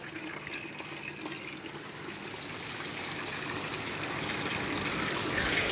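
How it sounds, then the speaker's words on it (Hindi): Plain water hoses onto a solar panel during cleaning, a continuous hissing spray and splash that grows gradually louder and closer, with no talk over it. "अब देखें सोलर पैनल जब पानी मारेंगे कैसे चमकेगा"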